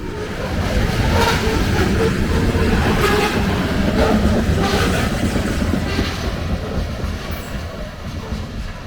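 A freight train on a railroad rolls past, a steady, loud broadband rumble and rattle of wagons with occasional wheel clicks that holds for most of the passage and fades slightly toward the end.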